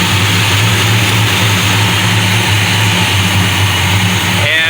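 Car engine running on a freshly rebuilt Thermoquad carburetor, a loud, steady close-up idle with an even mechanical drone throughout.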